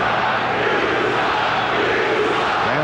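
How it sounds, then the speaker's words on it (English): A packed arena crowd roars loudly and continuously in reaction to a non-call during Game 2 of the 1996 NBA Finals, Seattle SuperSonics versus Chicago Bulls, a dense steady wash of voices with no distinct talk on top. "the crowd reacted to the last, what they felt was a non-call"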